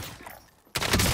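Gunfire in Call of Duty: Warzone, arriving as a sudden loud burst of rapid shots after a quieter, muffled stretch, close and dominant at the end.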